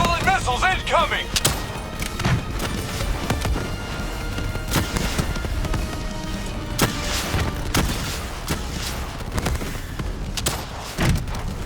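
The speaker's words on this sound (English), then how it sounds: "Javelin missiles incoming!" Javelin missile explosions in the Call of Duty: Black Ops III game go off as a rapid series of heavy booms and thuds over continuous rumbling battle noise, with a brief electronic tone at the start.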